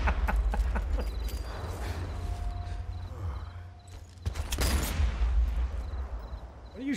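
Gunfire in the shooter game Sniper Elite 4, with sharp cracks and bursts scattered across a steady low game rumble and a loud cluster of shots near the middle.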